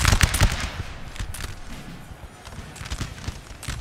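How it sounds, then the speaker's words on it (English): Massed musket volleys from Napoleonic-era line infantry in a Total War battle game, as Russian and French armies clash: dense crackling bursts of gunfire, loud and overlapping, rolling on continuously through the scene. "you can see almost all of them firing on the French positions here"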